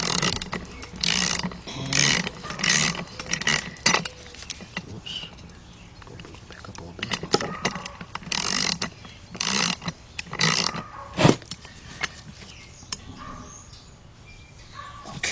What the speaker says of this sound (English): Then I get the ratchet.